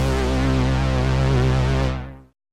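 A cinematic bass stab synth patch built in Serum sounds alone: one sustained, harmonically rich bass note that holds steady for about two seconds, then falls away quickly as it releases.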